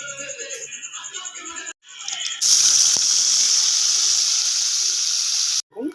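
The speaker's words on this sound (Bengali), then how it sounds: "আমি এখানে পেঁয়াজগুলোকে একটু নেড়ে নেব কোণার মধ্যে হালকা তেল দিয়ে" Chopped onions, green chillies and garlic fry in oil, giving a loud, steady sizzle and hiss that starts abruptly and runs for several seconds after a few quieter kitchen sounds.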